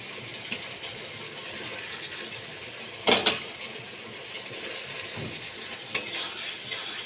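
Fasha fish stir-fried in a pan, a faint low sizzle with a few sharp scraping clacks of a spatula against the pan, heard alone.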